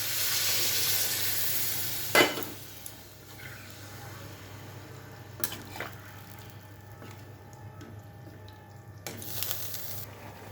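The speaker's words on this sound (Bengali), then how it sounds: "আমি এবার জল দেবো পরিমাণ মতো" Water poured into a pan of frying capsicum, onion and mushroom masala, a steady sizzle and hiss with a couple of sharp bursts and clatters, fairly close and quiet, no talking.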